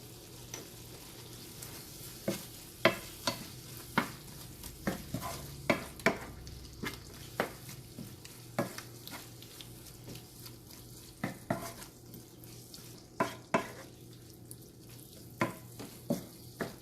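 Venison pieces being stirred in a frying pan, a steady sizzle broken by repeated scraping and clacking strokes of a spoon, close and fairly loud, with no voices.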